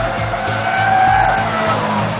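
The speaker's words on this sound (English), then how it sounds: "You hear the tires are howling" A Mitsubishi Lancer Evolution's tires howl and squeal loudly and continuously through a racetrack corner, a sustained tonal screech over the steady roar of the engine at speed.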